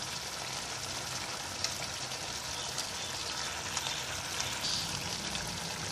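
Ground cumin fries briefly in oil for a Bangladeshi-style broccoli and vegetable dish, a constant close-up hiss and crackle at moderate level that runs without pause, with a few faint pops.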